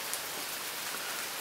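Heavy downpour during a late-May thunderstorm, a dense, steady roar of rain pounding surfaces throughout, loud and close, with no thunder evident and no talking.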